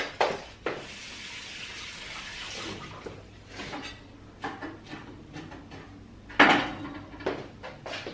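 Fresh basil is rinsed under running tap water in a home kitchen while making homemade pizza. A steady hiss of flowing water fills the first few seconds, followed by scattered clinks and splashes and a louder burst of water near the end, with no voices.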